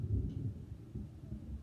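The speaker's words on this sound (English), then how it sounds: "That was thunder." Thunder in the Baldi's Basics video game, a low, muffled rumble rolling on for under two seconds, alone without talk.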